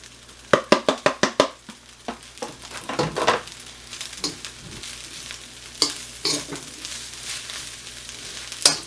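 Onions and eggs for shrimp fried rice hit a hot pan, with a steady sizzle under a rapid series of sharp scraping and tapping strokes from a utensil, followed by slower, scattered stirring knocks.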